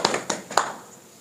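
A few scattered hand claps ring out in a small gathering welcoming a guest, three or four sharp separate claps close by, then a fading room tail, with no talking.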